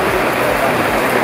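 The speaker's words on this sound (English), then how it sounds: "It's raining for real now." Steady hiss of rain falling, a dense wash of drops filling the whole moment with no clear gaps.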